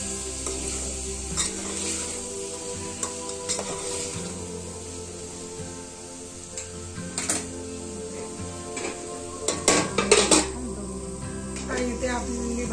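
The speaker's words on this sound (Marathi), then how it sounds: "इथे आपली भाजी थोडी शिजत आहे" Vegetables simmering in a covered pot on the stove before rice is added, giving a soft, steady bubbling hiss with a few scattered clinks and stirring knocks, some louder around the middle and near the end.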